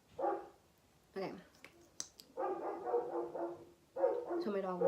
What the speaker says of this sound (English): So my dog won't stop barking.